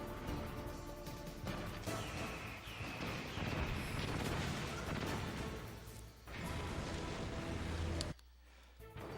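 Dense, continuous barrage of rocket blasts, lasers and rapid gunfire with crashing impacts in Metal Gear Solid, loud and chaotic throughout, cutting off abruptly near the end.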